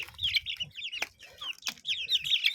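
A crowd of young Czech Dominant breed chicks at a poultry breeding farm chirps busily and continuously, with shrill overlapping peeps close by and a few sharper cheeps standing out.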